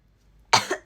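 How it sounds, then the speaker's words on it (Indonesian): A woman coughs twice in quick succession, short, sharp and close, after a moment of near silence. "Aku batuk-batuk doang ya."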